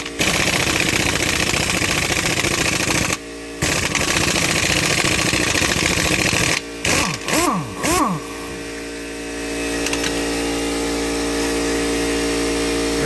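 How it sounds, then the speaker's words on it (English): An air compressor runs in a garage during a Jeep Wrangler axle swap, a loud, steady mechanical drone that cuts out briefly a few times, then winds through falling pitch sweeps into a lower, even hum. "The compressor is on."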